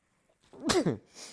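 A single close, sharp sneeze bursts out after a short intake of breath, followed by a soft exhale.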